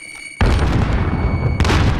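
A frag grenade in a first-person shooter goes off with a loud, close blast that sustains a heavy rumble, then a second sharp burst follows about a second later, with no voices over it.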